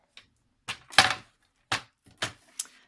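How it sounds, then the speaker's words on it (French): Paper pieces being cut for a paper craft album: six crisp, separate snips spaced irregularly through a quiet room, each a short sharp slice with brief silence in between. "je vais en découper 6"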